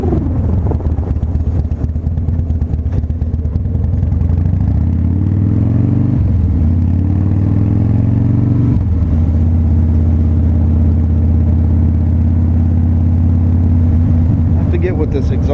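A 2006 Harley-Davidson Softail Deuce with a 2-into-1 exhaust rumbles loud and close while being ridden, its low engine note climbing through gears with two clear shifts, steady road noise throughout.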